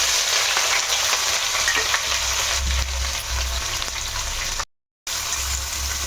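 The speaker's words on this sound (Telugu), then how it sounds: "మనకి ఉల్లిపాయలు వేగుతూ ఉంటాయమ్మా అక్కడ" Thinly sliced onions frying in a pan for paneer pulao, a dense continuous sizzle close up, steady throughout apart from a brief dropout near the end.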